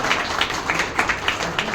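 Audience applause at a retirement function held at a dispensary, a dense, steady patter of many hands clapping at moderate distance with no clear pauses.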